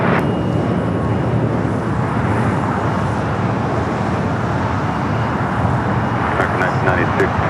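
An airliner takes off from runway 25 Right at LAX. Its jet roar is steady, broad and fairly loud, rumbling throughout with no break, and heavy background noise sits under it.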